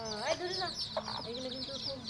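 Hens cluck and chicks peep close by on a farmstead, a busy run of short calls, with a voice speaking alongside them.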